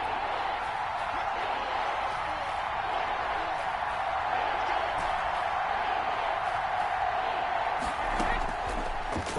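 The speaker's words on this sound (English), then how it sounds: "the crowd getting into it as we come up on a big 3rd down" A video game football stadium crowd cheering and murmuring ahead of a big third down, a broad steady roar under a commentator's voice throughout.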